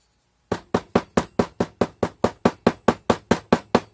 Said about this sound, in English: Hammer it down really good.